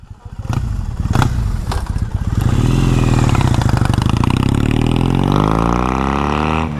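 New Triumph motorcycle engine close by, a few sharp mechanical knocks and then a loud steady running roar with rising and falling tone, no speech over it.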